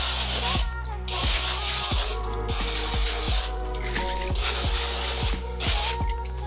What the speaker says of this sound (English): I'm gonna hit the inside of these cake tins with some non-stick spray